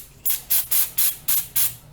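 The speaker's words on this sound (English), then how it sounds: "this is just a refrigerant grade oil spray, right? So I spray this on every O-ring that goes in the vehicle." Refrigerant-grade oil spray goes onto O-rings during a car air-conditioning service, heard as six short hissing aerosol bursts in a quick even rhythm, close and fairly loud, with no talk.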